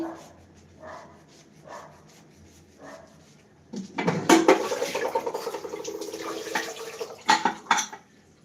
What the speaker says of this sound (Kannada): ಪಾತ್ರೆನ ಚೆನ್ನಾಗಿ ತಿಕ್ಕಿ